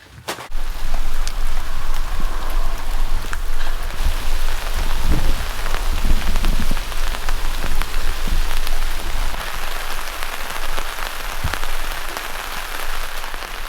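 Steady, loud rain pours onto a surface at a rural Italian property, a dense continuous hiss of drops with no talking, holding for the whole stretch.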